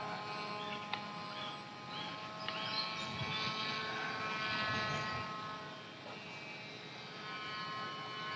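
An FX-61 RC flying wing makes a pass, its steady electric motor and propeller whine holding at a moderate distance and swelling slightly mid-pass before easing off, with light outdoor background noise.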